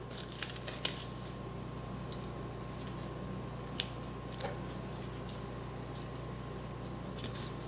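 Scissors trim the sides of a paper accordion ornament in a quiet room, a few sparse, faint snips scattered over a soft steady hum.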